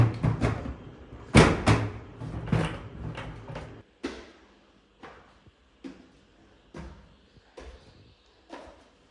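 A wooden door in a Pathan village home is pulled shut with a loud knocking clatter, followed by a string of lighter bumps and rattles at a steady pace, close by, with no talk.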